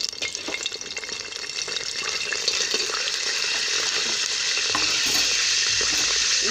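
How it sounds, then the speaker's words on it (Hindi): Steady sizzling of minced meat frying in hot ghee, a continuous crackling hiss that grows slightly louder, with occasional stirring. "और कीमे को तड़का लगाएंगे अच्छी तरह से"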